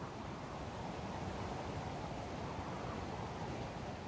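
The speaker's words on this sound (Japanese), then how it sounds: "千葉県の九十九里浜、広大な砂浜が続いています。" Waves washing onto the wide, open sand of Kujukuri Beach in Chiba, a steady broadband surf roar with some wind, continuous and fairly even throughout with no distinct breaks or voices.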